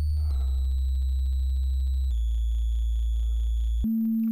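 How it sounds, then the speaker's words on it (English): Steady electronic tones from a Cre8audio Chipz Eurorack module driven by sample and hold, holding a buzzy pitched note that jumps to new random pitches every couple of seconds, loud and continuous with no talking. "So that sounds like a sample and hold to me."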